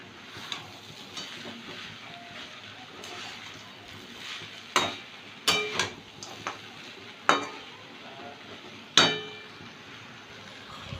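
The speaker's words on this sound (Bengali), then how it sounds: "ভাজা বাদামগুলো দিচ্ছি" A spoon scrapes and clinks against a pan as fried peanuts are stirred into papaya curry, sharp knocks recurring every second or two over a low steady sizzle, close by.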